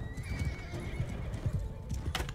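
Horse in Mount & Blade II Bannerlord, hooves clip-clopping in a steady run with a loud neigh and whinny over battle-game ambience, close and continuous.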